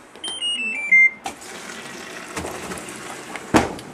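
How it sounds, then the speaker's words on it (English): A washing machine beeps a short series of tones as the wash is switched on, followed by a faint rush of water filling the drum, with a few soft clunks and a louder knock near the end. "Turn the wash on."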